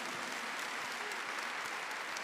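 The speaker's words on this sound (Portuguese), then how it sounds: "Vamos aplaudir o Pai e Jesus." A church congregation gives steady, dense applause at a moderate distance. It carries on evenly and no voice is heard over it.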